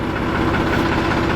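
A tractor engine runs steadily with its hydraulics engaged, a loud, close, continuous low rumble with a constant throbbing vibration and no pauses.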